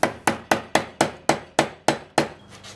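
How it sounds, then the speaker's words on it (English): Hammer blows flattening a metal piece during a digital instrument panel upgrade, nine sharp, evenly spaced strikes about a quarter second apart, close and loud with quick decays, followed by a brief quieter scrape. "Yeah, it needs to be pretty flat, honestly. Flatter. Yeah, so we need to hammer that out."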